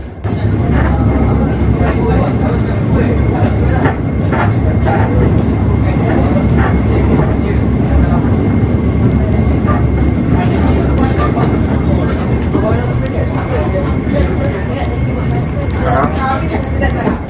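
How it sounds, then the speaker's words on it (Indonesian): An international sleeper train runs along the Malaysian railway with a loud, steady rumble of wheels and carriage noise heard from inside. A person speaks over the din. "saat melewati Malaysian Railway ini lebih enak, gak gemblodak parah seperti di Thailand"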